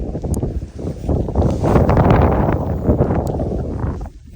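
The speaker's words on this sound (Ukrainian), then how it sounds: "Вітер такий злий, ні?" Strong, gusty autumn wind buffets the microphone continuously on a riverbank while fishing, a loud roaring rush that swells and eases over several seconds with no voices.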